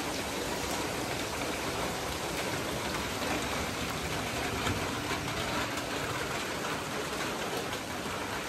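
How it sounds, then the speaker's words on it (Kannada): Steady rain pours down as an even, dense hiss that continues without letup, with no voices. "ಮಳೆ ಮಳೆ"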